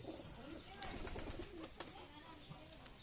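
Soft, low pigeon coos repeat faintly in the background, mixed with light rustling and a few scattered clicks.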